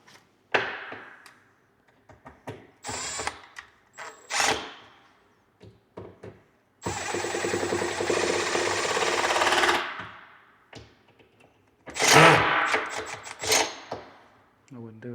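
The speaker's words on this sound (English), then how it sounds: "I would turn that drill down a little bit if it were me." Power drill driving screws into wooden cabinet doors while installing hardware with a jig, heard as several short whirring bursts and one longer sustained run, close and fairly loud, separated by pauses and handling noise.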